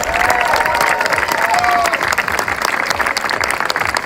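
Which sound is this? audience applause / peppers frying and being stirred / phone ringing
audience applause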